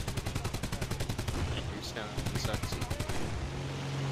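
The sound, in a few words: MK-108 cannon firing in video game War Thunder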